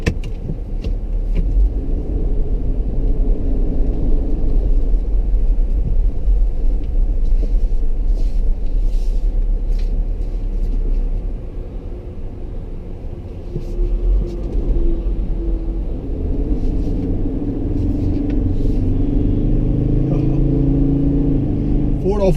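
A 2016 Ford Endeavour 3.2-litre diesel 4x4 automatic SUV on the move gives a steady low engine drone and road rumble inside the cabin, dipping briefly midway before rising again.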